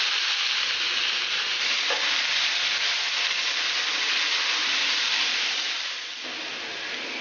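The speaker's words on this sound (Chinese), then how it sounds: "把葱姜蒜倒下去炒香， 炒香后倒入杏鲍菇，" King oyster mushrooms with scallion, ginger and garlic stir-frying in hot oil in a wok, a steady loud sizzle running throughout with a soft scrape of stirring partway and the hiss easing slightly near the end.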